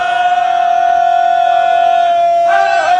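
A crowd at an Urdu religious gathering with Allama Riaz Hussain Rizvi in Lakh Data Ali Pur Chattha roars a loud, sustained chant in answer to a slogan, one steady massed shout with a fresh surge near the end.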